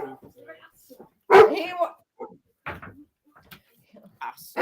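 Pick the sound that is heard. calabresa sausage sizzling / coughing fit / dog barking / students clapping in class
dog barking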